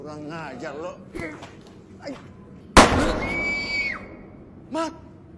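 A sharp gunshot bursts out loudly in a tense film scene, followed by a ringing whine, with dialogue and cries around it.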